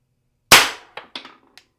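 A less lethal derringer fires one sharp, loud crack that rings out briefly, followed by a few smaller clicks and clatters from the gun's mechanism.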